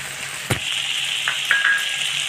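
Ghugni with cumin and coriander powder fries in a pan while being stirred, a continuous close sizzle punctuated by a sharp clank of the spoon and a few lighter scrapes.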